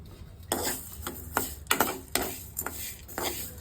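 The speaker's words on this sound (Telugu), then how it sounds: "ఇవన్నీ వేసి ఒకసారి కొంచెం దోరగా వేపించుకుందాం." Ingredients dry roasting in a kadai, stirred with a spoon that scrapes and taps against the metal in a series of irregular close strokes, with no talking.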